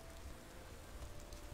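Steady rain hisses in the video game Gothic 2, a dense, even wash of falling drops that fills the short stretch with no pauses and no voices.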